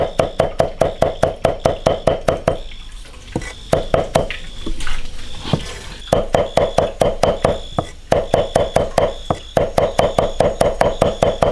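Garlic being minced finely with a knife, rapid runs of crisp, regular chopping strikes on a board, broken by a few short pauses with light clatter, close and loud.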